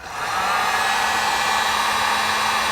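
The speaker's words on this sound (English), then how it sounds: "then you just take your heat gun" Heat gun blowing hot air to melt solder in a wiring connector during a light pod install; a steady, loud, close-up whooshing hiss that starts abruptly and holds constant throughout.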